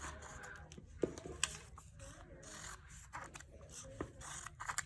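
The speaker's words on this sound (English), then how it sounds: "then you're gonna cut it apart and cut your pieces out" Scissors snipping paper pieces apart for a craft book, with soft close cuts, paper rustle and scraping at an uneven pace, and no talking.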